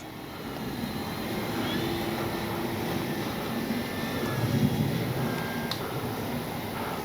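A FlightLine 1600mm P-51D Mustang RC model plane comes in to land with gear and flaps down, its engine a moderate, steady whine at a distance that swells slightly midway before settling.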